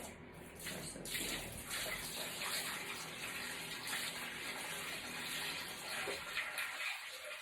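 Home-brewed kombucha from a 95-litre batch is poured into a large container, making a steady, close gushing and splashing of liquid that runs the whole time with no talking.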